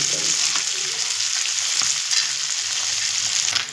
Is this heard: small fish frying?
yes